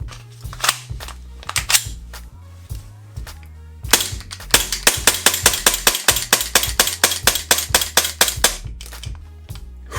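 Rapid, sharp shots from an Umarex Glock 34 CO2 airsoft pistol, a few scattered pops followed by a long fast string of loud, close cracks in steady rhythm.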